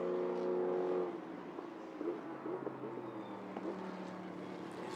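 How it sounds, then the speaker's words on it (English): LMP3 race cars with 5-litre Nissan V8 engines roar past during an Asia Le Mans Sprint Cup race, one loud engine note fading after a second into a steady, more distant drone of passing cars. "you have a Nissan V8 5-litre engine that's essentially pushing 930 kilos"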